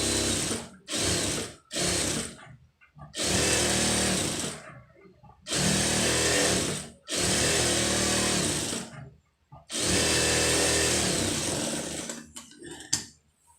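Sewing machine stitching a blouse lining, running in several bursts of loud rapid mechanical whirring separated by short pauses, with small handling clicks between runs.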